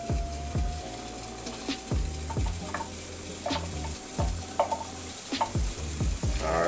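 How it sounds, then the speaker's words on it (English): Chopped ginger sizzles in a frying pan, a soft, steady frying hiss broken by repeated scraping taps of a utensil stirring it, close and moderately quiet. "we got a nice slow little sizzle there"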